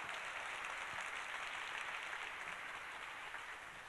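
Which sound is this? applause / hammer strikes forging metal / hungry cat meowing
applause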